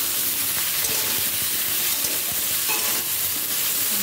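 Mixed vegetables fry together in a little oil, making a loud, dense, steady sizzle with faint stirring scrapes beneath it.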